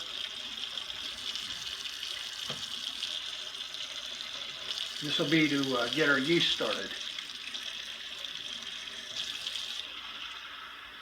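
Warm water runs steadily from a tap, a continuous hiss, with someone speaking briefly over it midway.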